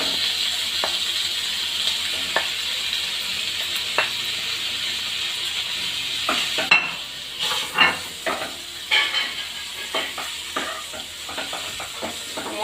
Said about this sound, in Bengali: মশলার সাথে ভালোভাবে নেড়ে মিশিয়ে নেব